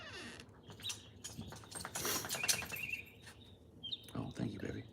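A small bird sings in a quick series of high, thin chirps and tweets, close by and fairly clear, with soft background rustling and a few louder bursts toward the end.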